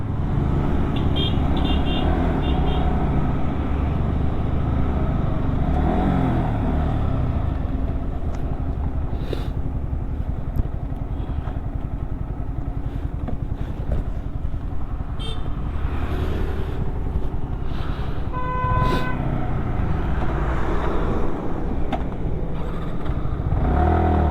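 Trucks and other traffic pass on the Mumbai–Lonavala highway in a constant heavy roar, with engines surging by and a short horn toot near the end.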